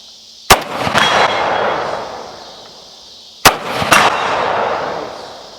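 Two loud, sharp blasts from a Beretta 1301 Tactical LE 12 gauge shotgun firing 3-inch magnum shells, about three seconds apart, each followed by a rolling outdoor echo that fades slowly.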